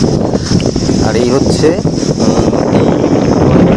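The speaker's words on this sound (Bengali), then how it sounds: "আজকে আকাশে একটু মেঘলা, আর হাওয়ার গতিবেগ মারাত্মক।" Strong wind rushes and roars steadily beside a river under a banyan tree in the Sundarbans on a cloudy day, a loud unbroken gusty hiss with someone talking over it.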